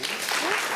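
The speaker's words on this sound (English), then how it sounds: "Give yourself a round of applause." A conference audience bursts into applause, a brief, dense wash of clapping filling the room at steady loudness, with a voice faintly audible beneath it.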